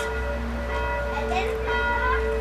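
Church bell ringing outside a rural South Jutland church at six o'clock on a wedding day: steady sustained tolling with layered overtones, fairly close and continuous, with faint voices in the background.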